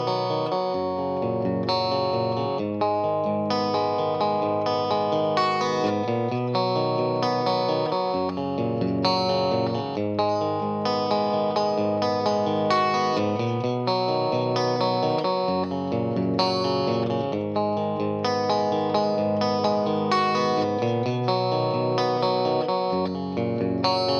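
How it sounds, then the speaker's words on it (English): Electric guitar with effects and distortion plays a main riff, tuned down a half step, a steady repeating arpeggiated chord pattern sustained alone for about twenty-four seconds. "So here's that main part one last time so you could hear what it sounds like tuned down to put it all together."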